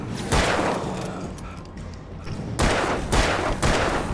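Gunshots in the video game Alan Wake: a sustained rattle of fire, a brief lull, then several heavy booming shots near the end, all loud and close with no talking.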